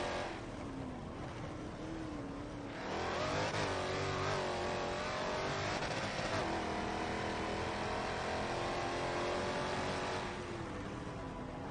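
A hypercar engine at full throttle in a racing video game qualifier, a loud sustained high-revving whine that rises and shifts pitch through gear changes, close and steady with no talking.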